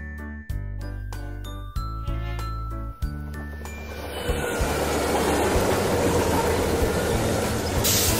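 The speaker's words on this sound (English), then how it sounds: "Bullet train." A bullet train rumbles past, opening with a few sharp rhythmic clanks and tones before settling into a steady, loud rushing roar that fills the rest.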